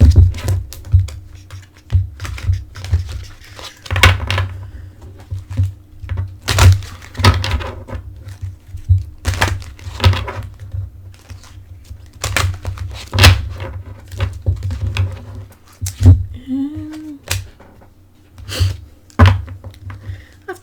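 An oracle card deck is shuffled by hand in a run of soft, rapid riffling and tapping bursts with occasional thunks. The sound stays close and steady and is nearly free of speech.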